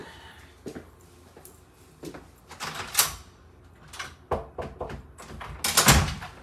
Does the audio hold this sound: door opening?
yes